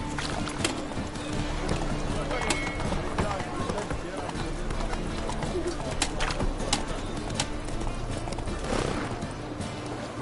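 Horse galloping in The Witcher 3, a steady clip-clop of hooves running through an outdoor game soundscape with birds and ambient music, continuous under a voice urging the horse on.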